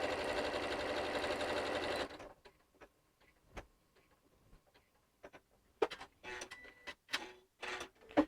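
A sewing machine stitches a circular line around a center pivot, running loud and fast for about two seconds before stopping, then scattered light clicks and taps of handling follow.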